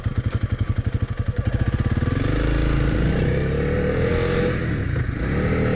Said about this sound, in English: We are taking the CRF300L off-road for the first time.